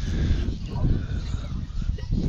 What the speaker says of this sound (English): we got a goose looking to take land here